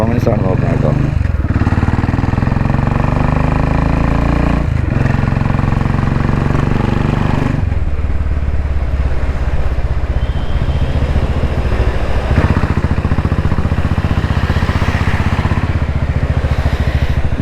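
A Royal Enfield Classic 500 motorcycle being ridden with a pillion passenger, its engine thumping steadily and loudly throughout with wind rush and shifts in pitch as the revs change.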